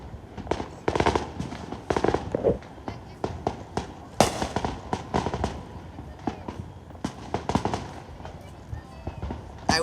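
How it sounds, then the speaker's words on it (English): Fireworks burst in a rapid, irregular string of sharp bangs and crackles during a Fourth of July weekend show, some loud and close, others fainter, with voices talking between the blasts. "I just heard a loud explosion."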